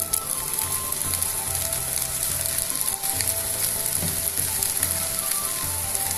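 Peruvian fried rice (arroz chaufa) sizzles steadily in a hot pan as soy sauce is stirred through with vegetables, a dense continuous frying hiss with no talking.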